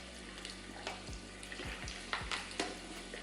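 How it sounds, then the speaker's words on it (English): Turkey wings fry in hot oil with a steady, close sizzle and crackle, punctuated by a few low bumps and pops. "We'll throw these in here, and we're gonna give them a quick fry."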